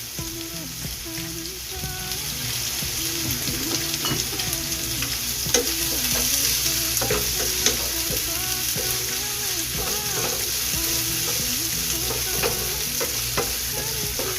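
Pancit sizzles as it is stir-fried in oil in a pan, a continuous crackling fry with repeated scraping strokes of the utensil, close and fairly loud with no talking.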